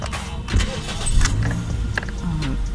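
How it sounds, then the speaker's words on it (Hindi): Toyota Corolla GLI 2019 engine cranking and starting up close, a brief starter whir followed by the idle settling in, with a few clicks and faint rattles. "गाड़ी स्टार्ट कर ली है"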